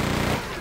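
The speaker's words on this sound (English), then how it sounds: "So let's break out the chain gun for a change." Chain gun firing in the Quake 2 video game: a short, dense burst of rapid automatic shots with a steady rattling rhythm, loud and close, fading slightly toward the end.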